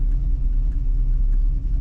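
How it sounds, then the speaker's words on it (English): A purple 1966 Ford Mustang idles steadily close by, its engine a deep, even low rumble with a slight pulsing lope and nothing else over it. "Good running car, starts right up and idles right away."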